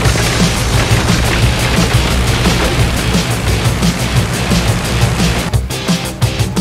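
Rapid bursts of video game gunfire crackle and boom continuously, dense and loud, with a brief lull near the end.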